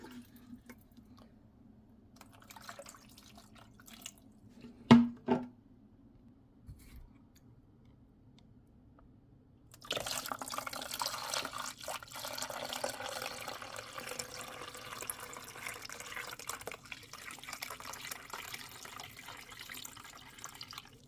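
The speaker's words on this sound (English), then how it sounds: "And again, I'm going to add more water to this." Water poured into a double-stacked yogurt maker container for homemade L. reuteri and L. gasseri yogurt, a steady close splashing trickle starting midway and running to the end after quiet handling clicks and a couple of knocks.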